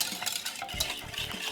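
A spoon works through lasagne sauce with cheese in a pot, giving scraping, clinking strokes against the metal and a soft bubbling sizzle underneath, close and fairly quiet.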